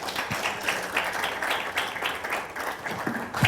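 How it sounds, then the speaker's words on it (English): An audience at a talk on entrepreneurship and law claps steadily for the speaker, a continuous, moderately loud patter of many hands with no voices. "A round of applause, please."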